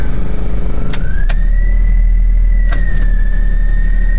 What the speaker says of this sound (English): We're in the mini truck.